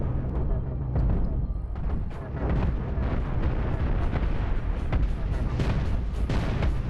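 Ship weapons firing and explosions in the space combat game Cosmoteer form a dense, loud, continuous barrage of booms and blasts, with no talk over it.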